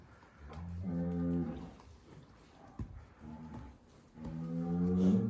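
Heifers on a pasture farm moo loudly in long, deep calls, one near the start and another swelling at the end, with a quieter lowing between.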